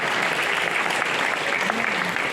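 Applause fills a hall at an Olympic and sports evening in Chelles as the crowd honours the police forces, steady and full, with a voice faintly breaking through now and then.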